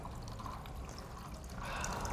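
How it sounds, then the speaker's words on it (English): An all-natural agua fresca drink poured slowly into a cup with ice gives a faint, steady liquid splash and trickle that swells slightly toward the end, with no voices over it. "Then you're going to go ahead and pour from there."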